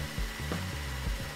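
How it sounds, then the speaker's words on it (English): A power drill bores holes into a custom resin car dashboard, buzzing faintly with brief surges in pitch as it bites. No one speaks. "Resin man Andre Nell sets about drilling holes into our one-of-a-kind dash."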